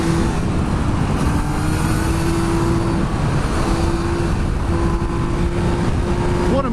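A 2016 Triumph Speed Triple R motorcycle under way, a steady loud engine drone mixed with heavy wind rush, heard close and continuous from onboard.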